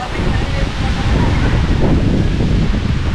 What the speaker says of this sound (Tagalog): Hangin! Hangin! Taas ang hangin dito.